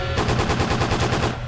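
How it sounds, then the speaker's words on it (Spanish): Video game Lucky Dog 1: prison guards fire automatic guns into the sky in one loud, continuous rapid-fire burst with no pauses. "Los guardias enojados amenazaron a los demás prisioneros disparando sus armas hacia el cielo."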